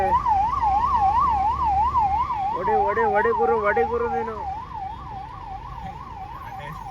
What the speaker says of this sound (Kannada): ಆಂಬುಲೆನ್ಸ್ ಬತೈತೆ ಜಾಗ ಬಿಡ್ರಪ್ಪ ಆಂಬುಲೆನ್ಸ್ ಬತೈತೆ